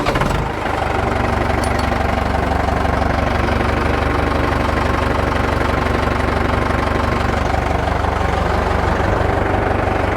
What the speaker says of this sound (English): Gonna have to start the tractor back up, so y'all bear with me a second.